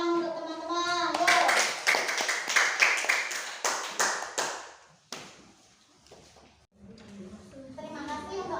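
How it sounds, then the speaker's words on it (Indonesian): Schoolchildren in a classroom clap their hands in quick, close bursts, with a teacher's and children's voices heard before and after the clapping. "Sekarang beri tepuk tangan untuk teman-teman."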